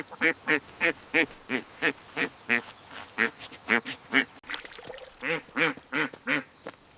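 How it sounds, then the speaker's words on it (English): Ducks quack in a quick series of nasal calls, close and fairly loud, with brief gaps between bursts. "two ducks sat together, preening their feathers and chatting."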